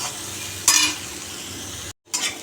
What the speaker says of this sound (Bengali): আমার উচ্ছে কুমড়ো পেঁয়াজ দিয়ে ভাজা হয়ে গেল এবার নাড়িয়ে দিই